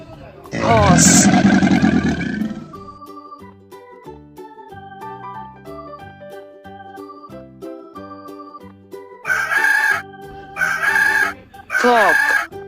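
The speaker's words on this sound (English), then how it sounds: "cock" A rooster crows loudly and close by, one long cock-a-doodle-doo over light background music, with several shorter crowing bursts near the end.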